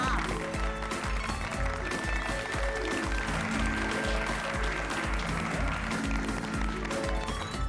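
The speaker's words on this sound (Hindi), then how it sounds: "आपका उत्साह बढ़ाने के लिए हम लोग ताली बजा रहे थे" A studio audience on a Hindi comedy sitcom set claps and applauds steadily throughout, with people talking over the clapping.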